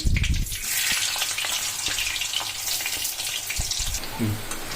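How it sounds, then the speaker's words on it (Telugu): Bitter gourd pieces frying in a pan, a steady broad sizzle of oil running throughout with a few soft knocks and clinks, close and fairly loud, no voices. "మిగతా కాకరకాయ ముక్కలను కూడా ఇలానే వేసుకొని వేయించుకోవాలి"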